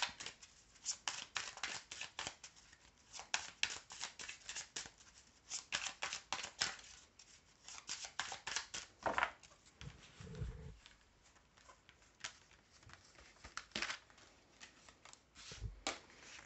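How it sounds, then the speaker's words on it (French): Oracle cards being shuffled by hand, a series of quick riffling, flicking bursts in irregular rhythm, close and fairly quiet, with a few soft taps between. "Je remélange."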